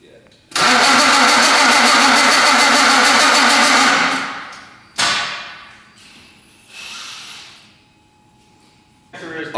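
A fully built, high-compression BMW M54 straight-six cranks and fires for its first start, roaring loudly for several seconds before cutting out. It is followed by a couple of shorter revving bursts that fade between attempts.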